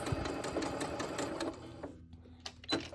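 A sewing machine stitches quilt binding with a fast, rhythmic close-up rattle of the needle that slows and stops about halfway, followed by a few quiet clicks and handling sounds.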